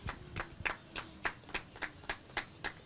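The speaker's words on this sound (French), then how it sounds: "vous allez l'applaudir pendant qu'il va venir" An audience applauds as a guest, Donald Fambo, walks onto a talk-show stage, coming through as evenly spaced, fairly faint claps in a steady rhythm with nothing else over them.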